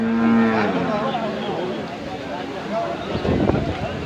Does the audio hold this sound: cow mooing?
yes